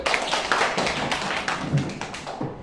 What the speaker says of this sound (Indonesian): Kita tepuk tangan untuk Ceril.